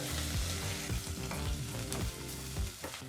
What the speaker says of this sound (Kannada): ಈಗ ಮೀಡಿಯಂ ಫ್ಲೇಮ್ನಲ್ಲೇ ಎರಡು ನಿಮಿಷಗಳ ಕಾಲ ಈರುಳ್ಳಿನ ಫ್ರೈ ಮಾಡ್ಕೋಬೇಕಾಗತ್ತೆ